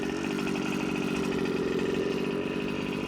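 The petrol engine of a 1/5 scale Rovan RC buggy idles steadily in snow with a buzzing, pulsing drone, constant and fairly close, no voices over it.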